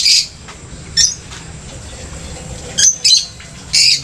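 Several sharp, high bird squawks burst out in short separate bursts over a quiet background, loud and close, at a campsite in Tanay, Rizal.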